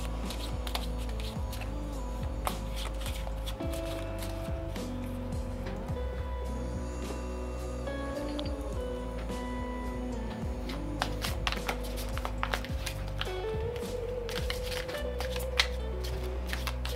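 A deck of oracle cards, the Antique Anatomy deck, is shuffled in quick riffling rustles and flutters close by, repeated throughout over steady background music.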